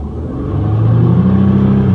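Car engine with a vacuum leak revs up, its loud low rumble and rising pitch growing steadily over two seconds, close and alone with no voices.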